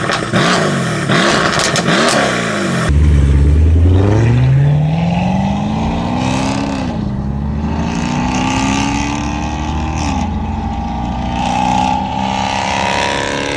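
A Mercedes-AMG V8 engine revs loudly up close, rising and falling through several long throttle sweeps with a deep, sustained roar throughout.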